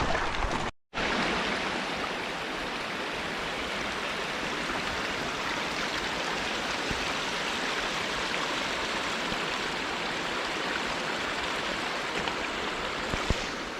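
Little Susitna River rushing steadily nearby, a continuous broadband wash of flowing water that holds level throughout, broken only by a brief dropout near the start.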